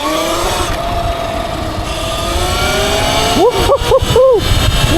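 A Sur-Ron 60-volt electric dirt bike on a first ride accelerates with a steady, rising motor whine under wind noise, followed by a few quick revving swells near the end.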